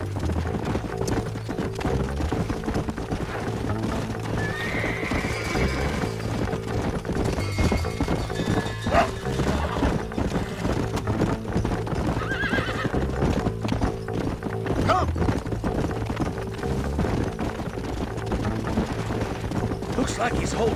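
Horses clip-clop steadily with repeated whinnies and neighs in a Red Dead Redemption ride near the old Pleasance house, hooves loud and close over a constant layer of game music and ambience.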